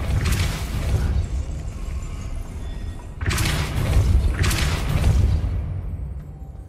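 A Depulso spell effect in a game, with a sustained rumbling rush of low noise broken by two sharper whooshing bursts that swell and fade.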